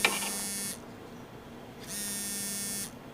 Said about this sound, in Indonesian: Kemudian HP milik Gun berdering